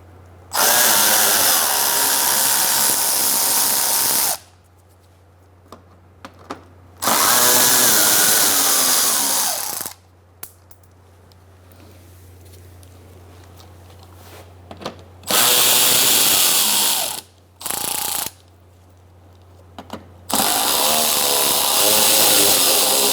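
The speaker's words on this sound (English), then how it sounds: "Using an 8mm socket, we're going to take out these bolts." Power drill with an 8mm socket removing splash shield bolts on a 2004-2009 Mazda 3, in several loud whirring bursts of a few seconds each separated by quiet pauses, close up with no talking.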